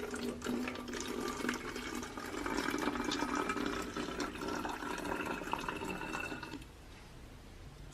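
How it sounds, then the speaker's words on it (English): Water pours steadily into a plastic bottle, a continuous bubbling, gurgling fill sound heard up close for about six and a half seconds before stopping abruptly, leaving only quiet room tone. "Pour water into the bottle until it is about 1/5 full."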